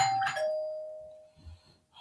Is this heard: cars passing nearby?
no